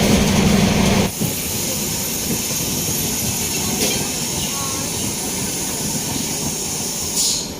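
Amritsar-New Delhi Intercity Express running steadily at speed, a continuous loud rolling rumble and hiss of the carriage, with a dip in level after the first second and a brief rise near the end.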